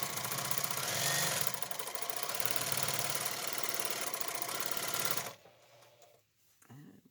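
A long quilting sewing machine runs steadily at speed for about five seconds with a dense, even whirring rattle, then stops abruptly, leaving quiet with faint clicks and handling sounds.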